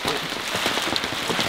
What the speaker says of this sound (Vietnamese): trời đang mưa rất to